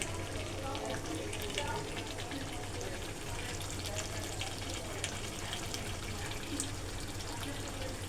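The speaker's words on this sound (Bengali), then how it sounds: "দিয়ে এবারে একটা চাপা দিয়ে আস্তে আস্তে করে চিকেনটা কষতে হবে" Chicken pieces sautéing under a lid in a pan for dhaniya chicken give a steady, muffled sizzle that runs unbroken throughout, with faint talk underneath.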